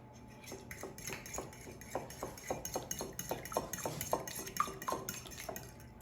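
A whisk beating ingredients for brownie mix cookies in a bowl, a steady run of quick metallic clinks and scrapes against the bowl, fairly close and moderately loud, with no talking.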